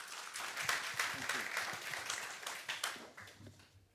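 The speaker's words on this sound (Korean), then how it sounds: "따뜻한 박수 부탁드리겠습니다." Warm audience applause welcoming a speaker at an international symposium on crop wild relatives, a dense sustained clatter of many hands that tapers off near the end.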